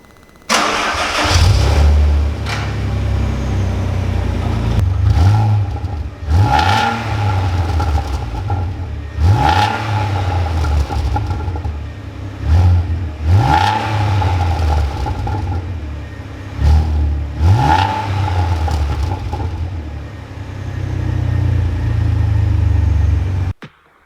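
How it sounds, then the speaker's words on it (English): A Renault Clio V6 fitted with a Quicksilver exhaust revs in a series of about five loud, close blips over a running idle, each rise falling back before the next. "I'm going to fire it up, make sure it's sound."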